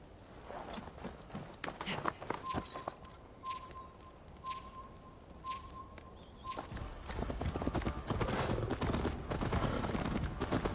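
Horse hooves galloping in Assassin's Creed Valhalla, a steady clip-clop rhythm that grows louder and denser toward the end, with ambient wind and faint birds beneath.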